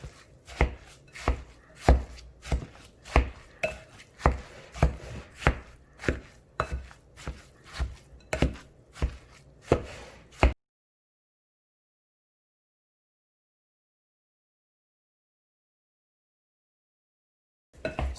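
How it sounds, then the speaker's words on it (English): An embutido meat mixture is worked together with breadcrumbs by hand, making steady rhythmic wet slaps and squishes for about ten seconds. Silence follows, then a brief sound returns at the very end. "we're going to add our breadcrumbs. And we just have to mix this one together."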